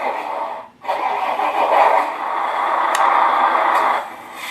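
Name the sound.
simulated engine sound from Beier SFR-1 unit in Tamiya truck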